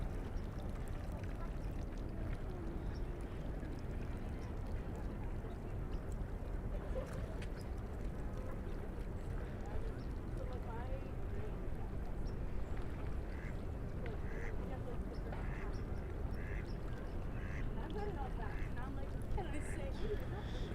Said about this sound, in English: I don't think I've seen this many ducks in this one little section before.